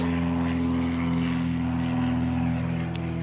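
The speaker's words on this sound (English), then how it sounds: "There's all the planes." A small propeller plane drones steadily overhead, a loud continuous buzzing hum that holds level throughout.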